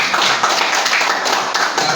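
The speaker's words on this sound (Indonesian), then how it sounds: "Tepuk tangan." Applause fills a press conference and talk show honoring an Indonesian Dakar 2026 rally competitor, a dense, steady patter of many hands clapping at close range for two seconds with no voices.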